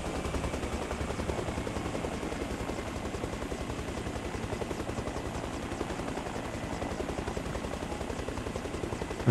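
A helicopter flying in Arma Reforger, its rotor producing a steady, continuous thudding chop with a constant engine drone throughout.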